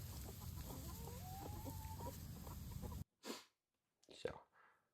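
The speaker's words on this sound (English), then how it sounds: "We do have chickens for sure." Farm chickens cluck in a steady, busy stretch under outdoor noise and talk, then the scene cuts to quiet with a few brief voices.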